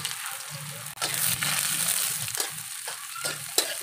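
Dried anchovies (dilis) fry in a hot pan, giving a steady crackling sizzle that runs on with brief dips and a few sharper pops.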